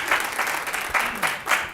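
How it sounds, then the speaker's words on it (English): Audience applause at the close of a conference session on proposal writing, a steady wash of many hands clapping in a room, with rhythmic surges and no voices over it. "If you all give them a round of applause"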